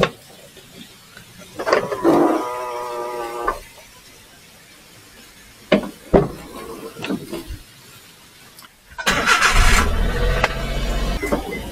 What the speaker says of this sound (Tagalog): Papainitin na natin yung makina.